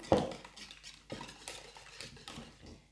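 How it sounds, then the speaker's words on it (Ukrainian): A spoon stirs pumpkin pancake batter with salt in a bowl, giving a few faint, separate scraping clinks against the bowl in an uneven rhythm. "Перемішуємо."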